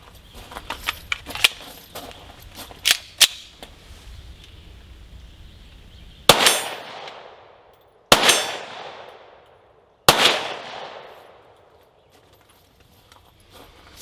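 Three sharp shots from a Smith and Wesson M&P 22 Magnum pistol ring out about two seconds apart, each a loud crack with a short ringing decay, after a run of faint clicks and metallic handling noises.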